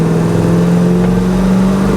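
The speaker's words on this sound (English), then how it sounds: "we can hop on it here and do a little acceleration." A 1970 Chevrolet El Camino runs steadily at a low, throaty pitch, its exhaust rumbling continuously and close by as it accelerates at about half throttle, with no voices.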